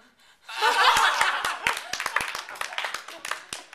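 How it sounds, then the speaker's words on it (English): A vaudeville theater audience breaks into a dense burst of applause mixed with laughter after a ventriloquist act, then thins into scattered, sharp individual claps. "The applause and the vaudeville continued as Mr. and Mrs. Cosgrove took the stage."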